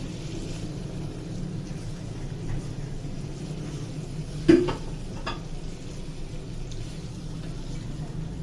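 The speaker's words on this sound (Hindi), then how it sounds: "चिकन को फ्राई करेंगे 5 से 6 मिनट के लिए।" Half a kilo of chicken stirred and frying in a karahi with ground cumin, giving a steady low sizzle throughout, with one sharp scrape of the spoon against the pan near the middle.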